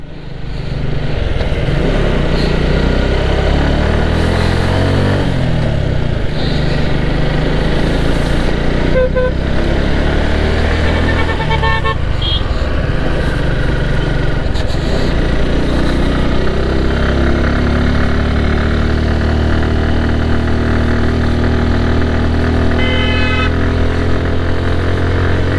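A motorcycle engine runs steadily and loud throughout, idling and revving while crossing the last risky 5 km stretch of road to Sajek, with no talk over it.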